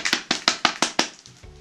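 Foley knocking on a door imitated with sticker foil: a quick series of about six crisp, sharp taps in an even rhythm, close and clear, trailing off at the end.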